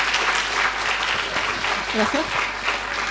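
An audience claps steadily through a conference talk on asexuality and health care, a dense, sustained wash of applause with a brief spoken thanks over it.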